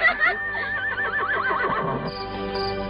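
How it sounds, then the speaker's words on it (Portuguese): A horse neighs in one long, close whinny that wavers and trails downward over about two seconds, followed by a faint high tone. "Parecia um cavalo."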